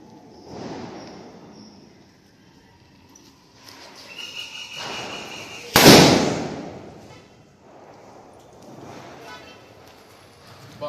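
A Baahubali-brand Diwali firecracker string bursts outdoors during a festival celebration, with one sharp loud bang standing out among scattered pops and crackles, amid background voices.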